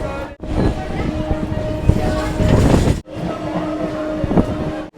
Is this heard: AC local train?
yes